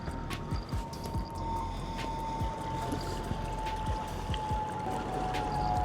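Water sloshing and trickling at a lagoon edge as an opaleye fish is let back in, a steady wash of broadband water noise with faint scattered splashes and no talking.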